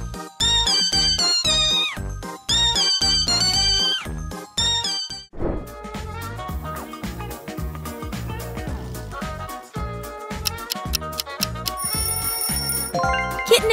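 Rhythmic, pitched cat meows repeat in quick bursts set to music, loud and close, then give way to a denser musical passage with more meow-like tones.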